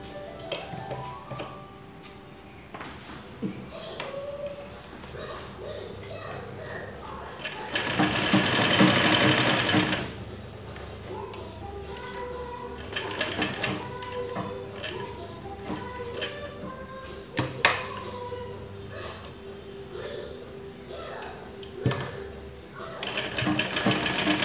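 A sewing machine stitches a small baby face mask in rapid mechanical bursts of ticking clatter, pausing and restarting, while someone talks in Hindi between and over the runs.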